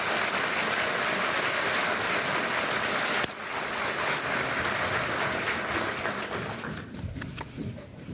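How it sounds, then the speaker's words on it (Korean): An audience at a Korean Justice Ministry inauguration ceremony applauds, a dense, steady patter of many hands clapping loudly, then thinning and tapering off toward the end. "박수 한번 보내주십시오."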